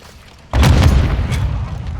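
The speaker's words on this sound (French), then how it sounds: "Ils lancent des grenades." A single heavy, close boom from a grenade explosion in the Modern Warfare II video game, loud and low, trailing off into a rumble.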